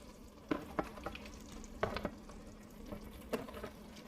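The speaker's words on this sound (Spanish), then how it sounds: "es decir que vamos a sofreír la mixtura" Mixed seafood frying and being stirred in a pan, with soft sizzling under several sharp clatters of a utensil against the pan, close and fairly quiet.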